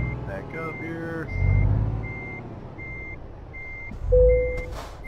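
Repeated evenly spaced reversing beeps from a truck in Euro Truck Simulator 2 sound over engine rumble, with two louder low whooshes, likely air or brake releases, and someone talking over them.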